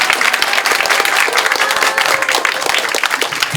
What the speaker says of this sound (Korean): 네, 박수 한번 주십시오.